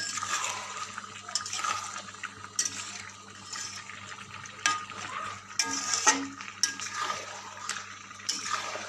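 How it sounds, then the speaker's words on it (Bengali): Chicken curry is stirred in a pot, giving wet, sloshing scrapes in irregular bursts. Thick liquid squelches and clatters softly against the vessel, close up, with low background noise and no speech. "বেশিক্ষণ আর বাকি নেই এখন একটু আমরা নাড়িয়ে নেব ভালো করে"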